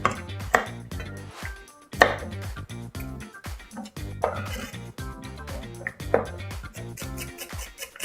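A knife chopping washed celery on a board, loud close thuds in short irregular bursts separated by pauses, with faint clinks of kitchenware and no talking.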